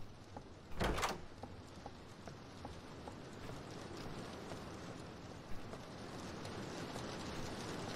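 A door sliding open in a Roblox game, one brief loud whoosh-clunk near the start, then steady rain-like ambience continuing with a faint knock later.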